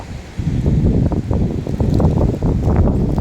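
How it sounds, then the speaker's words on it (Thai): Strong, gusty wind from a small forming whirlwind near a market roars and buffets the microphone in a loud, rumbling low rush that surges and eases for a few seconds. "ลมพายุหมุนเล็กๆนะครับ นี่กำลังก่อตัว"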